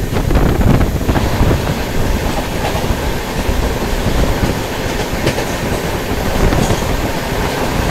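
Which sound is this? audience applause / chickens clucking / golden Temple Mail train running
golden Temple Mail train running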